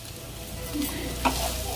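Fried potatoes are stirred into a sizzling chicken keema masala, a steady close sizzle broken by the scrape of a spoon in the pan, with no one speaking.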